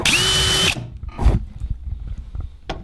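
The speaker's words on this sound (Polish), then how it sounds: "mam takie wiertło trójkątne, po prostu dosłownie tylko maciupinkę" A loud, steady whine of a power drill with a countersink bit cutting into aluminium runs for under a second, then stops, followed by quieter clicks and handling noises.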